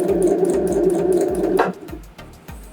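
Sewing machine running close and loud, stitching around a round placemat cover with a rapid steady needle rhythm, then slowing into separate thumps near the end.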